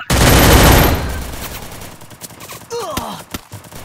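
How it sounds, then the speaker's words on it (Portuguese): A loud burst of rapid gunfire opens, followed by scattered single shots and game sound effects, all close and punchy. "Deixa eu dar um tiro na cara."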